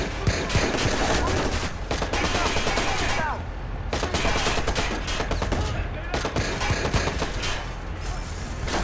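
Sustained automatic gunfire rattles through a Watch Dogs firefight on PC, loud and continuous with rapid bursts and brief lulls, all heavily layered with game effects.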